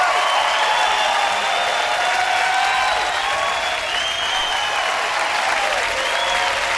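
Sustained, dense audience applause at La Ley's MTV Unplugged performance of "El Duelo", loud and even throughout, with scattered whistles and cheers rising above the clapping.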